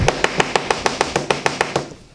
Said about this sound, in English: before I drop in the filter, I'm going to take and knock off as much contamination